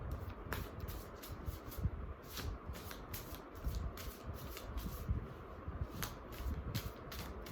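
Tarot cards being shuffled in quick, repeated riffling bursts, close by and fairly soft, with a steady rhythm throughout.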